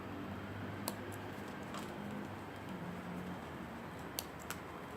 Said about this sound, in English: And now we're using the scissor to cut it.